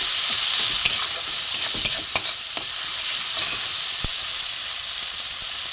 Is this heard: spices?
yes